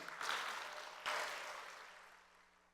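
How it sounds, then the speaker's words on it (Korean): Audience applause of thanks at a forum hall, two swelling bursts of clapping that fade away gradually, heard from a distance. "그분들도 위해서 미리 감사 박수 한번 쳐놓죠"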